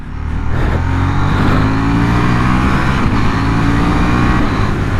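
A KTM 890 Duke R motorcycle accelerates hard, its engine note rising steadily and loudly in pitch as it pulls under throttle, with no talking.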